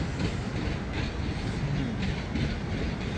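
A train at a railway station in Australia, heard as a steady low rumble with faint clattering of wheels, continuous and moderately close throughout with no talking.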